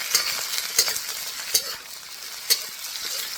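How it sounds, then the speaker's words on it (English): Chicken and vegetables are stir-fried in a pan for Cantonese cashew chicken: a soft continuous sizzle with regular scraping strokes of a spatula every half second or so, close and moderately loud, with no talking. "So we'll always stir fry."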